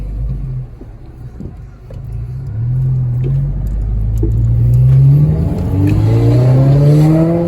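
A turbocharged VW GTI with an upgraded intercooler and a ball-bearing GT35R turbo revs and accelerates, its loud, close engine note climbing steadily in pitch.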